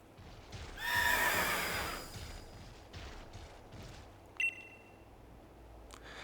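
A ghostly steed in the Pokemon Shield video game lets out a loud whinny near the start, followed by softer hoof clops and a sharp bright hit later, against a quiet background.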